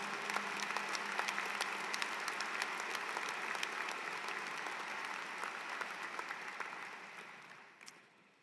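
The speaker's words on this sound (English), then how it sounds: "So please, a big round of applause to this amazing, amazing staff and faculty." A graduation audience at an online postgraduate programs ceremony applauds the staff and faculty, a dense, steady wash of many hands clapping that holds for several seconds, then thins and fades near the end.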